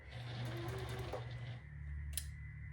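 Sewing machine stitching a quarter-inch quilt block seam for a scarecrow leaf block, a steady close hum with fine rhythmic needle clatter running throughout, easing slightly toward the end.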